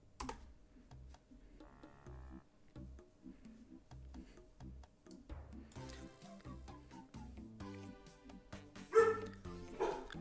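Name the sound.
dog barking in the background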